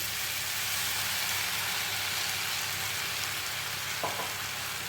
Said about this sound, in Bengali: এই যে চারমগজ আর আমন্ড আর পোস্তর যেটা পেস্ট করলাম, এটাকে আমি দিয়ে দিচ্ছি।